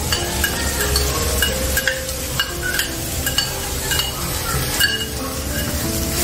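Ground spice paste and chopped tomato go into a pan during a cooking contest, bringing a close, steady sizzle broken by scattered scraping and clinking as the mixture is stirred, with no talking.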